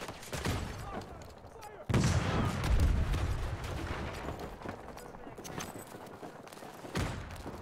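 Gunfire rings out in a Battlefield 2042 match, with scattered sharp shots and a heavy burst of fire amid a busy battlefield wash of game noise.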